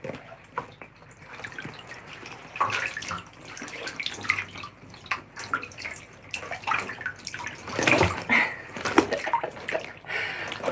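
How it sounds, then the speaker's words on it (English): Running water rinsing a wetsuit after surfing, an uneven splashing and trickling stream with drips and irregular surges, fairly close and alone without talk. "So I'm washing my wetsuit here."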